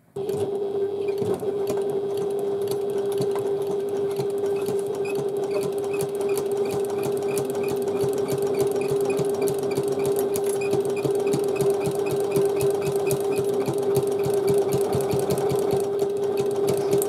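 A sewing machine stitches a panel of a domed handbag, running a loud, fast, evenly rhythmic needle chatter with a steady motor hum almost without pause from start to finish.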